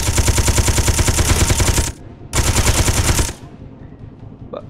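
A mounted gun on a Space Engineers buggy fires in two loud, rapid-fire bursts, each about one to two seconds long and close up, with a brief pause between them and quiet afterwards.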